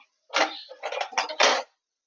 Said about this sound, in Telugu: ఇప్పుడు నీళ్ళు వేస్తానండి ఒక గ్లాస్